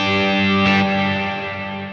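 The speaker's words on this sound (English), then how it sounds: "it just kind of has this harsh, almost organ-like sound that I don't really like" A sustained distorted guitar chord through a Line 6 HX Stomp reverb, with a harsh, buzzy, organ-like tone, washed in reverb and slowly fading.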